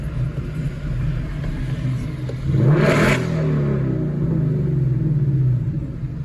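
A Ford Mustang passing at a car cruise show, its engine rumble swelling into a loud whoosh as it goes by close, then fading over a steady background roar of traffic.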